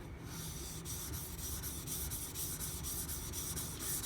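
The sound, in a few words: Aogami #1 Karaku bunka knife polished on sharpening stone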